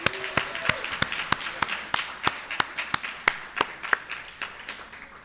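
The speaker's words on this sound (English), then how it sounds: "Another round of applause." Sparse applause at the annual PBK Book Award dinner at UC Irvine: a handful of distinct, evenly spaced hand claps, moderately close and fairly quiet, with a brief voice near the start.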